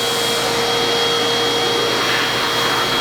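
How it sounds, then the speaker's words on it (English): A vacuum cleaner runs steadily in a chicken coop during winter chores, making a continuous close whine and rushing hum that stays at one level throughout, with no voices. "also want to vacuum a couple things off over here"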